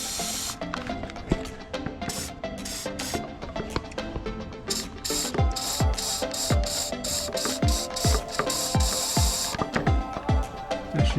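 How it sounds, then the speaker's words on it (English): Bursts of aerosol spray hiss into a lawn mower deck in short repeated blasts, interleaved with mechanical clicking and rattling from close by. "just give a good spray in there"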